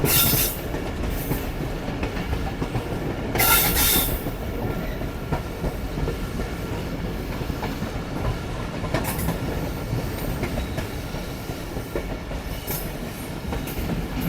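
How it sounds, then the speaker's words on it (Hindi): A train runs along a railway near the Afghanistan–Pakistan border approaching Killa Abdullah, giving a steady, close rumble of wagons with rhythmic clickety-clack and brief bursts of squealing wheels, with no talk. "ये ट्रेन यहाँ से मुड़ रही है"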